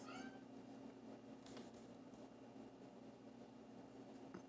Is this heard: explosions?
no